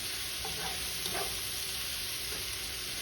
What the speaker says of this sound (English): I just want to make sure that the seasonings and that the oil and everything is all nice and mixed up.